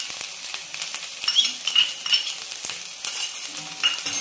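Ginger garlic paste sizzles as it drops into onions fried to a pinkish colour, a close, crackling fry with stirring scrapes and small utensil clinks and no speech.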